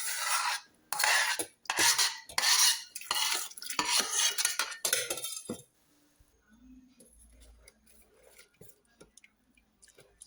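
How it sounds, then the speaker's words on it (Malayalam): A spoon clatters and scrapes rhythmically while stirring millet appam batter in a vessel, loud and close for about five seconds, then fades to near silence with faint scattered clinks. "ഇതിനകത്തോട്ട് ഒഴിച്ച് ഇതും ഒന്ന് ഇളക്കിയെടുക്കാം"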